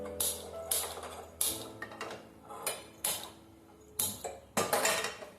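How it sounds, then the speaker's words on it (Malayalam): A pan set onto a kitchen stove, with several distinct metallic clanks and knocks spaced about a second apart over a low hum, close and moderately loud. "നമുക്കിനി ഇത് മാറ്റി വേറൊരു പാൻ വെക്കാം."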